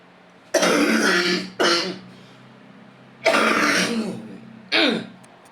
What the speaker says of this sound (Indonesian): Sambil batuk-batuk.